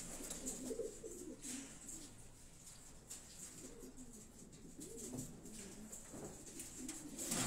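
Pigeons cooing close by in a soft, repeated, throaty rhythm of low burbling calls, with faint background noise and no speech.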